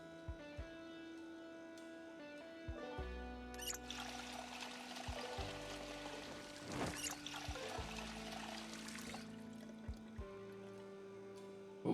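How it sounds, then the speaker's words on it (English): Water pouring and trickling as bottles are filled in the video game Project Zomboid, a steady splashing stream lasting several seconds over quiet background game sounds. "We want to fill our water bottles."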